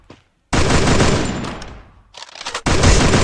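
Loud bursts of rapid automatic gunfire from a mobile shooter game, two long sustained volleys separated by a short gap, close and dominant with no talk over them.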